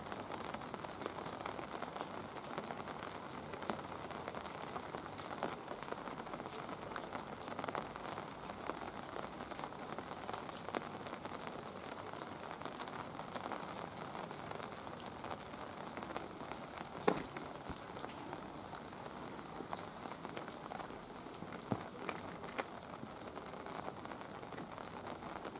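Steady rain falls on a wide road in Greece, a continuous soft hiss with scattered louder drops, holding evenly throughout with no voices.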